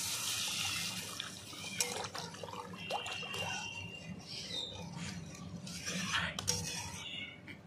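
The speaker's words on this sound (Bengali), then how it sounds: "এবার দিয়ে দেব জল।" Water poured into a pan of rohu fish curry with black cumin paste: a continuous splashing, gurgling pour of moderate loudness, with clatter of utensils in the kitchen.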